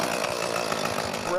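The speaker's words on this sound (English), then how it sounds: "You might be able to use the chainsaw now that all those nails are out of the way, Jace." A chainsaw runs steadily and close at an outdoor playground build, a constant buzzing drone that carries through the whole short stretch alongside faint voices.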